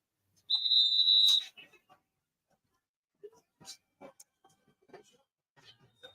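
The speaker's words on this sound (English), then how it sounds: "Whistle before the snap." A referee's whistle at a high school football game, Ridgway at Brockway, sounds as one sharp, shrill blast lasting about a second, followed by quiet scattered faint noises from the field.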